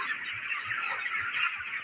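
Broiler chickens cluck continuously in a dense, steady chorus, with many birds overlapping at close range and no voices over them.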